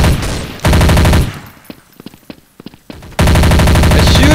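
Video game gunfire in two loud, sustained automatic bursts framed around a gap of scattered single shots and softer clatter, all close and dominant, with no talk.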